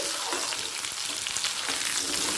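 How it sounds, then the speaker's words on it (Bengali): Dried red chillies, bay leaves and cumin seeds sizzle and crackle steadily in hot mustard oil in a wok, a dense bright frying hiss that continues without pause. "কড়াতে দিয়ে দিয়েছিলাম সর্ষের তেল শুকনো লঙ্কা তেজপাতা আর জিরে ফোড়ন দিয়ে"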